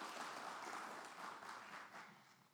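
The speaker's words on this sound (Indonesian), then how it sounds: "Tepuk tangan." Audience applause in a parliamentary hearing hall, a steady wash of many hands clapping at low level, continuous for a couple of seconds and slowly fading, with no talk over it.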